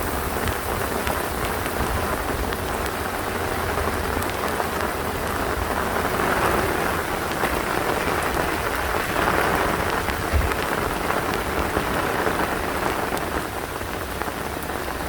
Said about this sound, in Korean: 정말 비가 많이 옵니다.